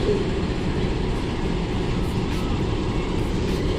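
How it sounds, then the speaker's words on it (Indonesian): The Argo Merbabu passenger train rolls into track 1 at a station with a steady loud rumble and low mechanical roar, continuous and close, with faint higher rattles above. "Ini Argo Merbabu tambahan persiapan masuk jalur 1 nih."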